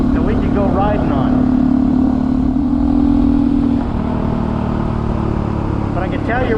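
A Honda CT125 motorcycle with a big bore kit climbs a mountain road, its engine holding a steady, loud drone while a rider talks over it.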